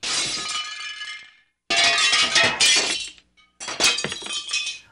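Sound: pottery jar shattering, sound effect

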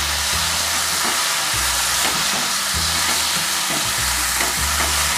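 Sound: potatoes and cauliflower stir-fried with spices in a pan

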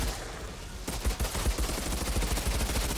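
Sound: gunfire in video game Outriders

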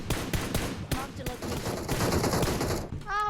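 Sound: gunfire in PUBG Mobile video game

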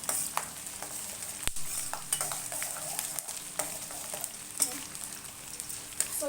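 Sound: cumin seeds sizzling in hot oil for chitranna

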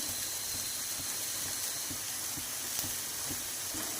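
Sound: bitter gourd frying and sizzling in pan with turmeric

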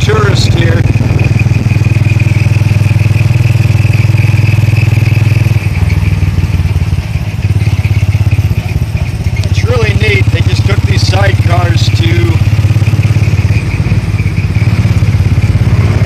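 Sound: motorcycles on a street in the Philippines

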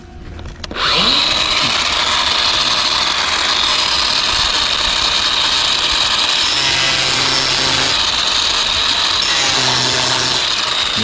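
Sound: power saw cutting pipe

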